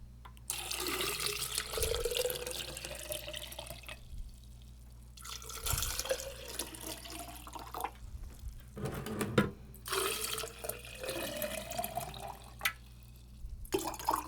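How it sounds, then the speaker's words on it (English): Water poured from a tap into three vases for tulips, running in several separate bursts with short pauses between fills, close and fairly loud with a rising filling tone. "Then we're going to add some water."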